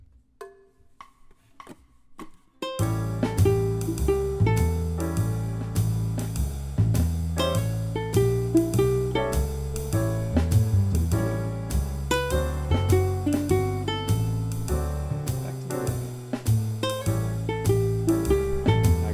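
Bright plucked ukulele phrases play a bluesy lick over a full, steady backing band, starting after a few seconds of near silence with faint scattered taps.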